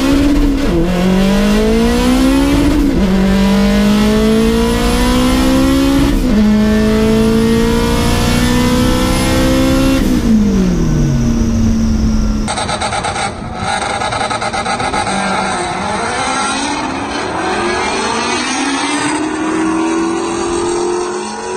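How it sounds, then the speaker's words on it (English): A 600 hp all-wheel-drive Honda Civic sedan with a stock K20 engine launches on a drag strip, screaming up through several rising gear pulls with brief shift dips, loud and close, then the sound drops to a more distant rising whine. "First pass on a Honda, 11-16, 128. Coming out soft out the hole."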